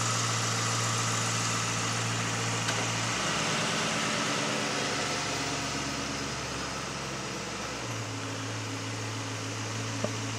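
A Ford Mustang engine idles steadily during an automatic transmission fluid check as it is shifted through the gear ranges, its low hum dropping in pitch partway through and rising back later, alone and close.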